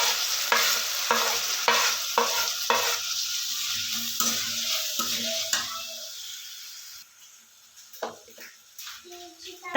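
Chopped tomatoes and curry leaves added to hot oil in a pan: a loud sizzle that gradually settles, with stirring scrapes and clinks of a utensil against the pan, up close.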